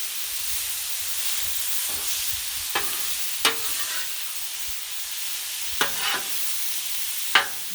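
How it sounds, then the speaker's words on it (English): Refried beans sizzling on a griddle, a steady soft hiss broken by several sharp spatula scrapes and stirs, with no voices. "So we got some refried beans going."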